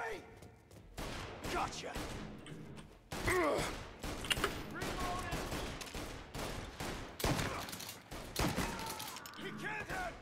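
Gunfire in Mafia Definitive Edition: scattered bursts and single shots crack out irregularly over about ten seconds, with clanks and movement sounds, while a character shouts over the shooting.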